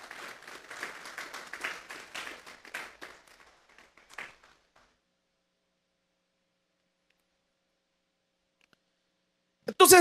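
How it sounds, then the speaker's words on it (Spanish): A church congregation claps, a dense burst of applause for the first few seconds that thins into scattered claps and fades to silence, then a loud voice cuts in at the end. "Vamos a darle un fuerte aplauso pues al Señor."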